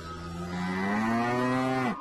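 A cow mooing as a sound effect in a read-aloud children's story, one long, loud, drawn-out moo that rises slightly before cutting off abruptly.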